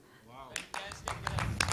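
Scattered claps from members at a business networking meeting come in after a voice, picking up from a few sharp individual claps into a denser patter as talking continues underneath.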